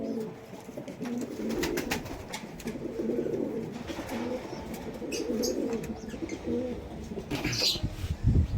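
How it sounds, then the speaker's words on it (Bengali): Low, throaty coos from a male Kamagar pigeon repeat throughout, with faint bird chirps and a brief flutter of wings near the end. "এই একটা কামাগার পায়রা"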